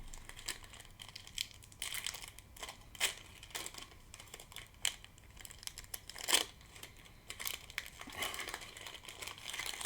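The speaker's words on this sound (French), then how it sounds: "Et je vais remettre un coup de ciseau." Scissors snipping at the crinkly foil wrapper of a Pokemon booster pack, close and quiet, with scattered crinkling rustles and a few sharper cuts.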